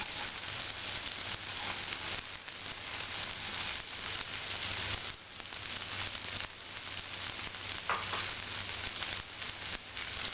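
Onions sizzling steadily in oil in a pan, a loud continuous hiss and crackle with no talk over it.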